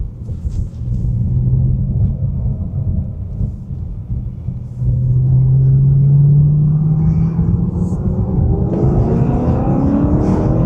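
A BMW E90 M3 with a MagnaFlow muffler runs with a loud, deep exhaust drone that steadily climbs in pitch as the engine revs up, heard close and continuous.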